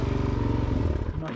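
An older motorcycle engine revs high with its choke slightly out, giving a steady, loud, close-up drone that dips briefly near the end.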